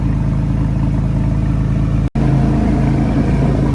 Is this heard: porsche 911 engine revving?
yes